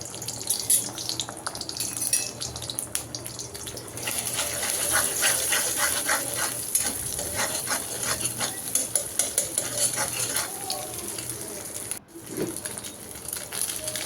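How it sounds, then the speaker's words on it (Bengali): Beaten egg fries in a pan with a steady sizzle and frequent rapid scraping stirs, close by, with a watery, tap-like wash at times and a brief pause near the end. "একটু নাড়াচাড়া করে ডিমটা ভেজে নিয়েছি"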